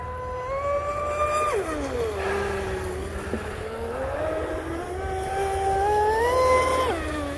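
A fast electric RC boat on 6500 batteries with a ZTW speed controller makes a speed pass in the rain, its high motor whine sweeping up and down in pitch as it passes close, loud and steady over constant rainfall.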